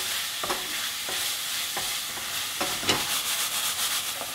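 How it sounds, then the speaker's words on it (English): Beef mince browning in a pan for spaghetti bolognese, with a steady continuous sizzle and periodic louder scrapes and stirs as the meat is moved around, close and fairly loud, with no talking. "the beef itself definitely should hear that sizzling sound all the way through"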